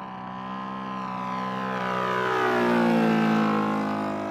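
A Phoenix Model 91-inch Waco RC biplane makes a low pass down a runway, its glow engine a steady buzzing drone that swells and shifts pitch as it passes close by.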